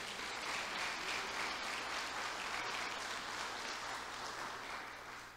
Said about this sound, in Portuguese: Pode levantar um aplauso a esse Deus?